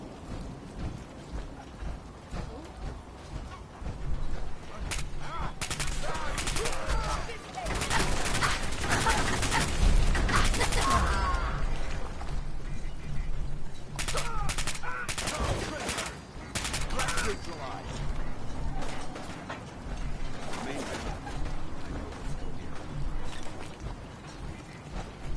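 Bursts of automatic gunfire in the video game Fallout 4, rapid clusters of shots in several separate volleys, heard alongside game noise and occasional voices.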